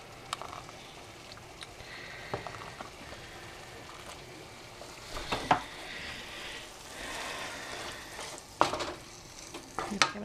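A spoon scrapes and stirs taco pasta with tomato paste and stock in a hot pan, soft sizzling underneath, with irregular clinks and scrapes, a few sharper knocks against the pan.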